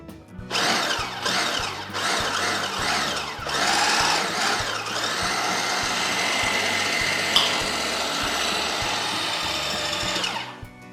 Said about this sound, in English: The food processor ready to go, and you can start giving it a little pulse